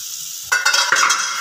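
Potatoes and capsicum fry in a pan for a Bengali vegetarian aloo dum, a bright sizzle bursting in after a quiet moment and crackling on with faint stirring.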